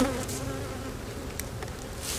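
Honey bees buzz in a continuous close drone around an open hive, a dense steady hum with individual bees whining past now and then.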